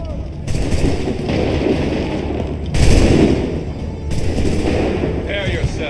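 Musket volleys from Assassin's Creed III battle lines crash in loud rolling waves, several heavy bursts overlapping amid ongoing battlefield din, with shouted voices mixed in.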